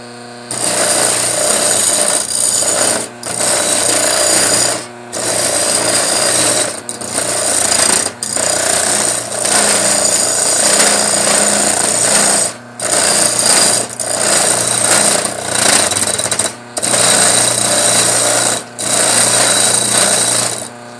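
A homemade 2x72 belt grinder runs loud and steady, smoothing a metal part in bursts of grinding separated by several brief pauses as the part is lifted off the belt, with no talking.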